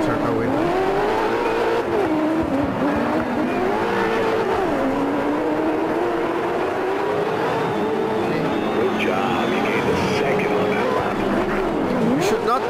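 A rally car in the racing video game DiRT 4 drives a track with a steady engine drone that rises and falls in pitch, and faint tire squeal comes through, loud and continuous throughout.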